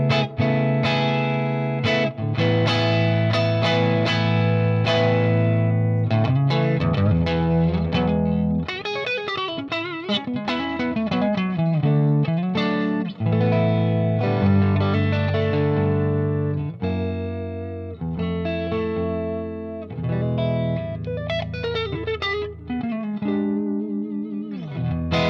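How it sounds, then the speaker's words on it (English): Electric guitar played through a Marshall Vintage Modern amp with reverb, producing a steady run of overdriven chords and melodic phrases with a washy, lingering tail, loud and continuous without talking. "that reverb sounds really nice"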